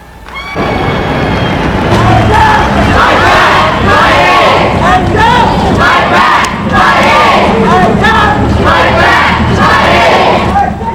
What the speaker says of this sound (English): The spirited walkers seemed to build up a head of steam as they took over Peachtree Street, chanting and cheering